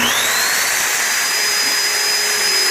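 A shop vacuum wired to switch on with a saw in a home workshop runs steadily at close range, a loud continuous whining hum with a high motor tone, with no one talking.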